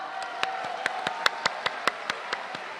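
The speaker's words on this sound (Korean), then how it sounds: "다시 한번 소중한 우리 당 후보자들에게 뜨거운 성원의 박수를 부탁드립니다." Party delegates in a hall at a Democratic United Party presidential primary in Busan give sparse applause: about a dozen distinct, evenly spaced claps, moderately loud over a quiet room hum.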